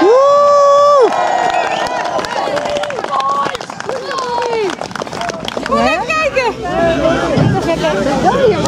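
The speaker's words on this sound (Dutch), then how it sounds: "Grote applaus voor Bobby!" A lively crowd at the 2022 Mentelity Games event in Saas-Grund cheers and claps, a loud, continuous wash of overlapping voices, shouts and whoops with scattered clapping that carries through the whole stretch.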